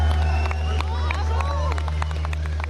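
A crowd of rally fans greets champion driver Sébastien Ogier at a homecoming celebration in Gap, with steady close chatter and babble, scattered claps and high shouts rising over a constant low hum.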